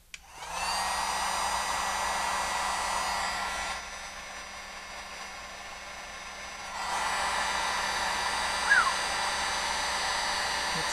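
A $14 Harbor Freight heat gun runs with a steady blowing whir and hum while sealing solar panel parts, dipping quieter midway as it moves off, then returning louder, with no talk.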